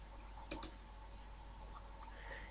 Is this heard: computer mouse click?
yes